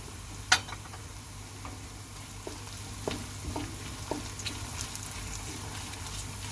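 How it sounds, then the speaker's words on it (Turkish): Tomato paste sautéing in a pan for a fresh-leaf pea dish, a soft steady sizzle with a sharp clink early on and scattered light scraping taps throughout, no voices. "Bir iki dakika salçanın kokusu gitsin diye kavuralım."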